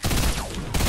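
Assault rifle fire in the Fortnite video game, a dense, loud burst of rapid shots filling the whole short moment with no talk over it.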